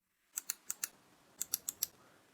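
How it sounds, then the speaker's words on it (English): Eight sharp, crisp button clicks from a Gravastar Mercury M1 Pro gaming mouse in two groups of four, close and fairly quiet, with no talking. "The sound of the more expensive mouse is indeed crisper."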